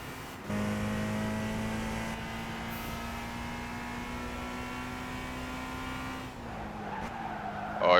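A car in Gran Turismo 5 brakes and skids with a long, loud tyre squeal that holds a steady pitched whine for several seconds, then breaks off into a rougher scrub as it slows.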